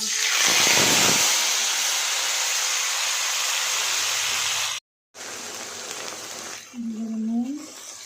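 Nigella seeds, a dried chili and a spice paste hit hot oil with a loud, steady hissing sizzle. After a brief cut, a calmer sizzle continues, and a short voiced sound rises near the end.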